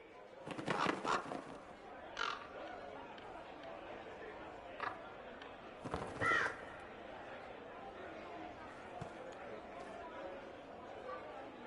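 Birds cawing in the video game Dragon Age Inquisition, several harsh caws in irregular bursts over a steady background bed of murmuring ambience.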